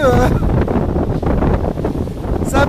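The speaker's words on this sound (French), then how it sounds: "c'est ici que le vent était aujourd'hui. Et donc on a des gros rouleaux là." Strong wind buffets the microphone on the coast at Marsalforn, Gozo, with a steady broadband roar and big waves rolling in beneath it; brief voice fragments at the start and end.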